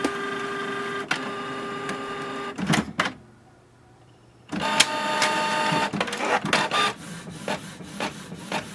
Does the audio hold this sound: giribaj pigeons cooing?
no